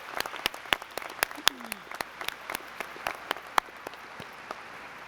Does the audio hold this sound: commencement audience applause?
yes